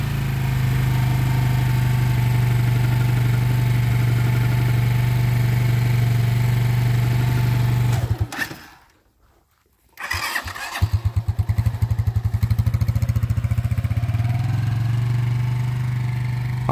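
A motorcycle engine idles with a steady low rumble while a learner rides, cuts out briefly, then sputters back and revs unevenly.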